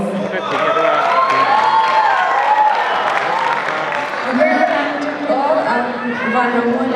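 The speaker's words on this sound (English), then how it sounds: "And we have a big round of applause." Sustained crowd applause at a college freshers' meet, dense and loud for the full stretch, mixed with cheering, whoops and chatter from the audience.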